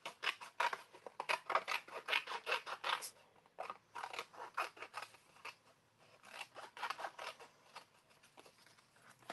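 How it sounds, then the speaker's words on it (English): Scissors cut through scrap paper in quick bursts of crisp, close snipping, the paper crinkling and rustling between clusters of cuts. "Then let's come in and grab our Timmy scissors first. Cut a hole in the middle"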